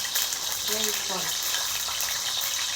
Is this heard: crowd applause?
no